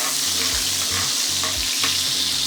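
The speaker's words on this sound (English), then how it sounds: "Let these fry a little." Carrots frying in a pan for Jamaican egg fried rice, a steady close sizzle and crackle of hot oil with a few soft stirring scrapes, no voices.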